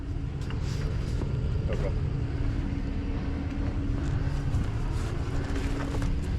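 A Ford F-250 pickup truck stuck on a concrete driveway idles and rumbles steadily at close range, a low continuous engine drone, with a brief spoken word.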